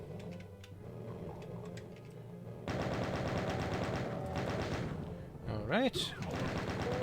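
A chain gun fires in Doom as a sustained, loud rattling burst that starts abruptly partway through, with lighter shooting earlier, a rising whine near the end and a voice speaking briefly.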